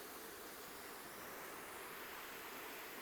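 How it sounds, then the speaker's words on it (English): Flowing water makes a steady, soft hiss with no break and no voices, heard faintly at a distance. "water moving, as you see,"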